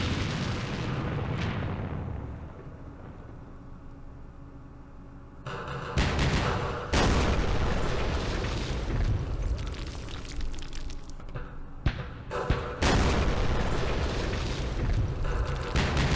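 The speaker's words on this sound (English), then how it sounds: "We ran into some mortars." Mortar fire and explosions in the war game Campaign Series Middle East during the Battle of Jerusalem: heavy booms and rumbling blasts burst in, with a quieter stretch and then several loud dense salvos, no talking.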